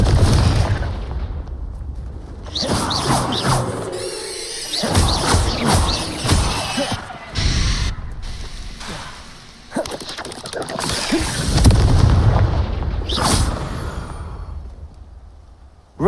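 A Confringo fire spell detonates in Hogwarts Legacy combat: booming, crackling blasts erupt in several bursts amid game noise, loud and close.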